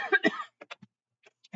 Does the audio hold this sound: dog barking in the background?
no